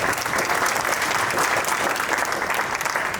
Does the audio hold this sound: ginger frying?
no